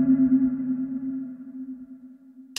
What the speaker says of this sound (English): you add a bit of reverb to these sounds and they suddenly sound